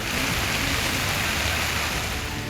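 Torrential monsoon rain during floods in Rajasthan pours down as a loud, dense, unbroken hiss of heavy rainfall, steady and close throughout.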